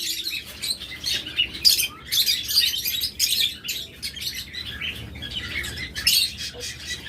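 Caged pet birds such as budgerigars, lovebirds and cockatiels chirp and squawk together in a busy, overlapping chorus of bright calls at close to middle distance, with no talking.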